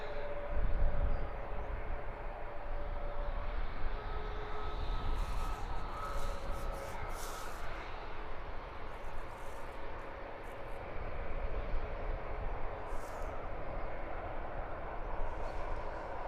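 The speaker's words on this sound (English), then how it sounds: "Ryanair looks keen to get going. Cruising onto the runway." A Ryanair airliner taxiing onto the runway at London Luton Airport, a steady distant jet engine rumble and whine lasting throughout, with faint wind noise.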